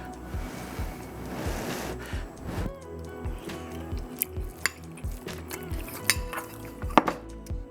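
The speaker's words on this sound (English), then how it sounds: "I'm gonna go ahead and taste it, see how it is." Five-spice fried rice being eaten, with soft close chewing and occasional clinks of utensils against a dish, steady and low in level with no talk.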